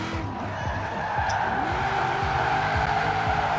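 Tires skid and squeal as a 1955 Chevy 150 drifts through a turn in a racing video game, a steady engine drone running beneath a long, continuous loud screech with no talking.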